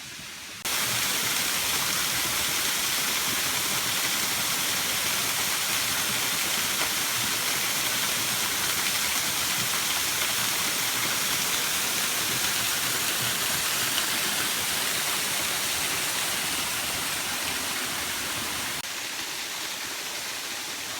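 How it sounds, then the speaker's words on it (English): A cascade waterfall in Clifton Gorge runs high after rain, a loud, steady roaring rush of water that holds unbroken for about twenty seconds with no voices. "I never knew this like secret cascade waterfall was back here"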